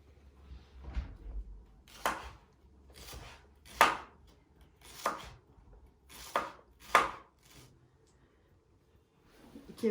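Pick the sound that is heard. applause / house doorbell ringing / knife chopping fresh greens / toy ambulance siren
knife chopping fresh greens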